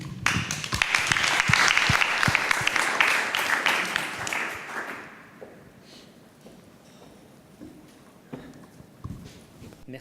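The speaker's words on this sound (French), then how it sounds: "Je vous demande d'applaudir Sébastien Kulik." At a business networking aperitif, a small audience claps for a guest speaker, with loud, crisp applause for about five seconds before it fades into quiet room noise and scattered faint sounds.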